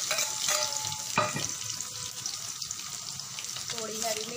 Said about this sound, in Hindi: भूनने देते हैं थोड़ी देर।